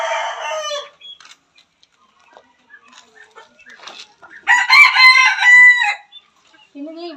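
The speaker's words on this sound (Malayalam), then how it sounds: "കോഴികളൊക്കെ സൗണ്ട് കേൾക്കുന്നുണ്ട് കേട്ടോ" Roosters crow at Haritha Bio Park in Panamkuzhi. Two loud, close crowing calls come a few seconds apart, with faint clucks and scattered small farmyard noises between them.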